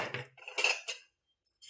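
A roasted mixture being poured and scraped onto a metal plate in a kitchen, a few short clattering metallic scrapes and clinks close up, then a brief pause and one more scrape.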